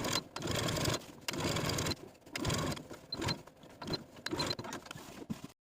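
A sewing machine top stitches the side seams of a long-sleeved garment at a 1/8 inch seam allowance, running in several short, steady bursts separated by brief pauses.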